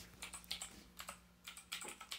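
Quick irregular keystrokes on a computer keyboard hooked up to a Wii U, light clicky taps in short bursts, close and fairly quiet with no talking.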